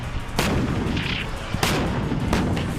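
Artillery fires during a joint US and Romanian military drill, with three heavy booms over a dense, continuous rumble of distant gunfire.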